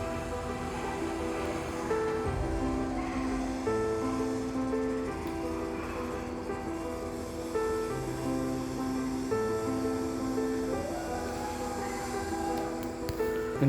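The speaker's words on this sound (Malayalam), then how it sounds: "കടലിൻ്റെ ശബ്ദമാണ് കേൾക്കുന്നത്." Recorded sea waves play continuously in a coastal habitat museum exhibit, a steady wash of surf blended with droning tones and layered sound, fairly loud throughout.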